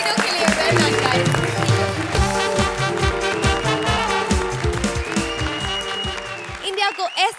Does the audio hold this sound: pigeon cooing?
no